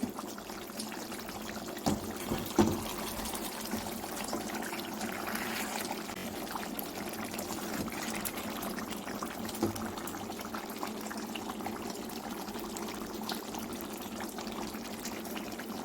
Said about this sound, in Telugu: కర్రీ అయితే ఇలా బాయిల్ అవుతుందండి